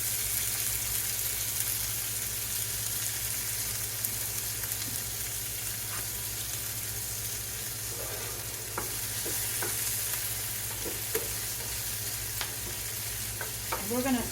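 Omelet fillings sautéing in a hot pan, a steady loud sizzle and hiss throughout, with occasional scrapes and small clinks of stirring joining in toward the end.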